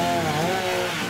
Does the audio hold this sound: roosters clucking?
no